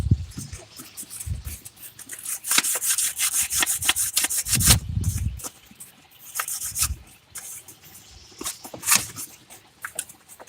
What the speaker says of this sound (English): Okay, I gotta sand this.